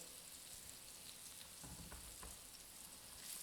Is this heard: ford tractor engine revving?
no